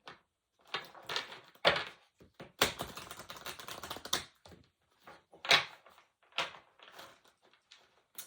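Bursts of crisp riffling and slapping cards, several quick shuffles of a tarot deck in a row with short pauses between them, close and fairly loud.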